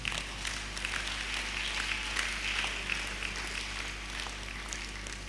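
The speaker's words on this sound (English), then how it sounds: "Clap for him." An audience at a symposium claps, producing a dense, sustained patter of many hands at moderate distance that holds steady for several seconds before easing slightly.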